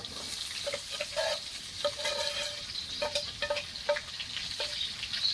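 Mixed vegetables and fried pumpkin being stirred in a frying pan, a soft sizzle under repeated metallic scrapes and clinks of a spatula, close by with no talking.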